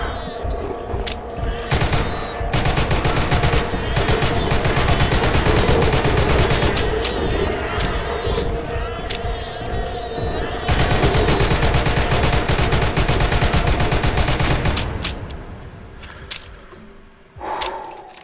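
Heavy automatic gunfire in the GZDoom-based game Total Chaos, long loud sustained bursts of rapid shots with short pauses, fading near the end before a final brief burst.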